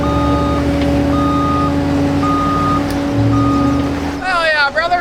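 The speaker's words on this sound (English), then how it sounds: "Let's get this truck out the ditch." A truck engine rumbles steadily as the vehicle is pulled out of a ditch on a rural Iowa farm, with a steady whine and a beeping over the engine, then a brief burst of other noise at the end.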